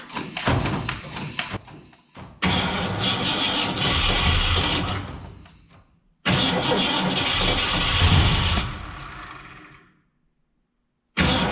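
A 1967 Ford Fairlane with a carburetor needing a rebuild cranks and tries to start, with a rough stumbling burst and then two longer sputtering engine runs that die out, each ending in silence, heard up close.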